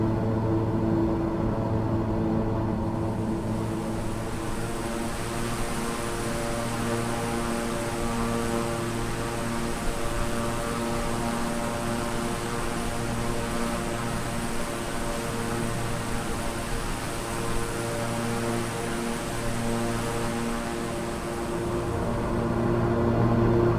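A King Air 350 twin turboprop in simulated flight, heard as a steady, loud cockpit drone with layered engine hum and a faint high whine, unbroken throughout with no talk.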